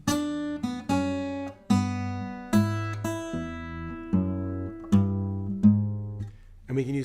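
Clean guitar plays a fingerstyle lick, a series of distinct plucked notes and bass tones ringing in a steady rhythm, close and moderately quiet.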